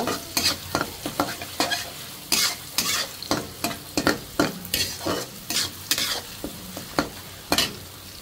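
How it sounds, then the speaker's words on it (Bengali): Chopped onions are stir-fried in a kadai with bay leaf and garam masala. A spatula scrapes and clanks against the pan in a steady rhythm of about two strokes a second over a constant sizzle, with no talking. "পেঁয়াজ কুচিটা একটু আমি লাল করে ভেজে নেব।"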